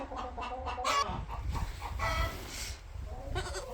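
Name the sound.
escaped chickens clucking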